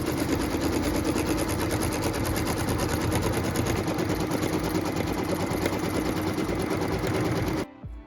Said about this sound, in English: this here is going to do the final outline stitch, which also doubles as a cut line